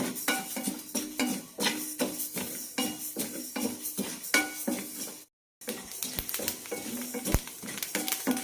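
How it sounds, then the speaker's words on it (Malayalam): Fenugreek seeds dry-roasting in a pan for a karkidakam laddu, stirred with a spoon. Continuous scraping and rattling with frequent clinks of the utensil against the pan, close and fairly loud, with a brief pause. "ആദ്യം ഉലുവ വറുത്തെടുക്കാം."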